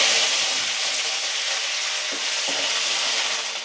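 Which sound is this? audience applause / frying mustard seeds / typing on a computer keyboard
frying mustard seeds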